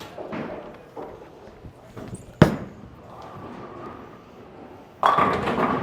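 Bowling pins are struck by a 900 Global Sublime ball with one sharp, loud crash midway, followed by rattling and then a second burst of clattering near the end against quieter alley background noise.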